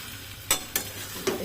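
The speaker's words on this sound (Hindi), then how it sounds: "इसको प्याज लहसुन से मैंने थोड़ा सा तड़का लगा दिया है।" Onion and garlic tempering sizzles in a pan with a steady soft hiss, broken by three short scraping stirs of a spoon, no voices.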